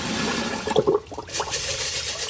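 Water pours and splashes into a bowl to rinse rice, with a steady rushing flow, close by, with a brief burble partway through.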